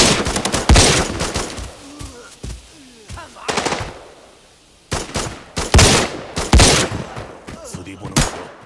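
Automatic weapon fire in the mobile shooter Arena Breakout, several rapid bursts of loud close shots separated by short pauses, with a quieter stretch in the middle.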